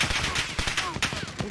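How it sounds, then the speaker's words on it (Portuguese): Rapid bursts of Call of Duty: Warzone gunfire, sharp repeated cracks in quick succession, loud and close, with a voice briefly mixed in. "Tiro."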